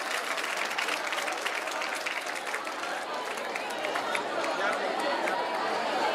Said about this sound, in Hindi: ताली बजा के जरा स्वागत करिए हमारे अतिथियों का